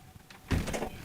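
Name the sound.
back door closing and being locked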